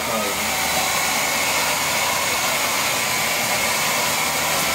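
Continuous loud roar of a blow dryer running, steady airflow noise throughout with a faint whine, no talking.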